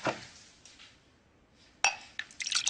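Glassware clinks sharply as a drink is poured into a glass, with a few short bright chinks and a brief trickle of liquid, close and fairly quiet with no talking.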